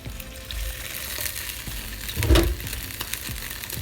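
Beef sausages fry in a pan over low heat, giving a steady soft sizzle and crackle, with a brief louder splutter or stirring bump partway through and no talking.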